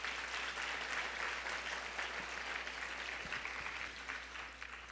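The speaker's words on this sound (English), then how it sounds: "Let's give this room another round of applause." Audience applause at an annual luncheon in San Francisco, steady, dense clapping from a room of people, fairly distant and even throughout.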